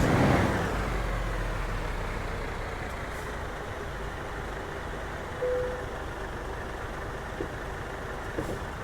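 A heavy truck engine in Euro Truck Simulator 2 idles with a steady low rumble throughout, with a few faint clicks and a brief tone near the middle, no talk over it.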